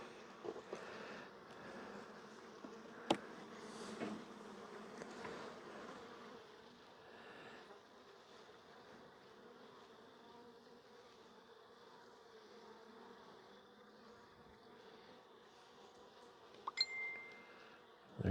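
Honeybees drone steadily around an open hive during a brood inspection, a continuous, fairly quiet buzzing hum with a couple of brief knocks, no talking.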